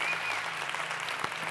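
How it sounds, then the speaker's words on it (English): A church congregation claps together in dense, steady applause that fills the room, with a faint cheer at the start and no speech. "Now we can clap and thank God."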